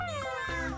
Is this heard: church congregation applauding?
no